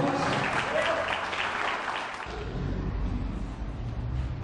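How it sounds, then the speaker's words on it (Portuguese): A church congregation bursts into applause after a sermon, dense clapping that fills the room for a couple of seconds before thinning into a softer spattering with some voices underneath. "Vamos aplaudir Jesus?"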